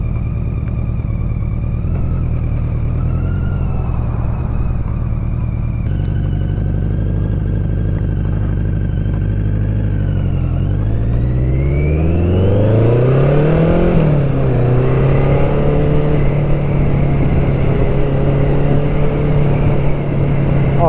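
BMW K100 motorcycle engine running loud and close, with steady idle then rising and falling revs sweeping up and down, settling into a higher steady drone; no voices.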